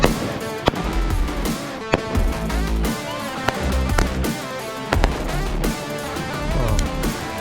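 Ground fireworks going off outdoors at a Fourth of July family gathering: a dense, loud crackle of sharp pops and bursts with whistling, sparkling hiss layered throughout, several bigger bangs standing out.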